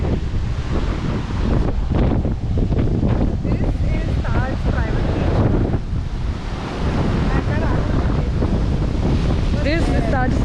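Steady, loud wind buffets the microphone over rolling surf on a beach at Fort Aguada in Goa, a continuous roar with voices talking faintly through it.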